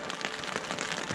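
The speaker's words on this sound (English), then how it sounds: "It's crazy windy and rainy out there." Wind-driven rain patters densely on a surface with a steady hiss, constant and close, with no voices, on a canoe expedition.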